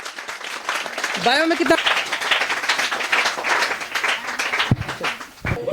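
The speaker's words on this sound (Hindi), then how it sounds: "एक बार जोरदार ताली बजाइए" Students clap together at a coaching centre in Sugiya, Shivhar district, a steady crackling wave of applause filling the room while voices speak over it.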